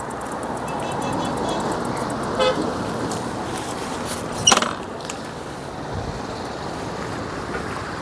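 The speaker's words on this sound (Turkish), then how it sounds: "İnanın çok trafik var pazar günü." Heavy Sunday street traffic in Selime town, Cappadocia: a continuous roar of passing cars with a short horn toot partway through and a louder, sharper horn blast soon after.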